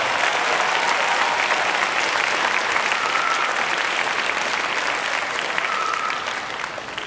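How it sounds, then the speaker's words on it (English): An audience applauds a grade 7 band at a school spring concert. The clapping is dense, steady and sustained, then tapers off near the end. "Let's give them a round of applause"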